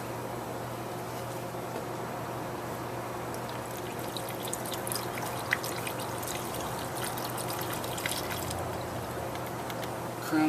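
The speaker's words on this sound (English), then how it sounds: "I'm going to go ahead and pour this in first" Mercon V transmission fluid trickles steadily from a nearly empty can into a Ford Crown Vic, a soft continuous pour at close range with faint background hum and no talking.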